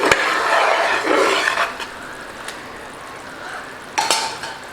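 A spoon stirring thick jackfruit halwa in a metal pan on the stove, with a continuous scraping and swishing close up, a few sharp clinks of utensil against the pan, and a soft background hiss.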